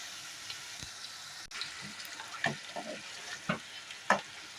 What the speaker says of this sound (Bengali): এবার ভেজে রাখা মাছের মাথাগুলোকে একটু নাড়াচাড়া মতো করে দিয়ে মিশিয়ে দিচ্ছি লাউয়ের সাথে।